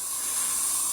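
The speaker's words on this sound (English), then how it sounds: "once you've tampered it all down, you have to spray it again with the sealer" Sealer sprayed onto a freshly tamped driveway surface, a brief steady hiss, faint and close, alone without any talk.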